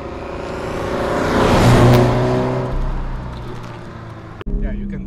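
A 2017 Toyota 86 accelerating on the road, its engine note swelling loudly to a peak and then easing off, followed by a brief clunk near the end.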